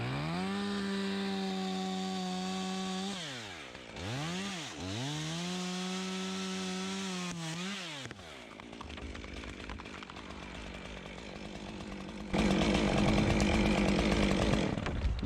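Chainsaw cutting a tree branch from a bucket truck: the engine drones steadily with two sharp dips in pitch, then bogs into a rougher, noisier cut that grows louder toward the end.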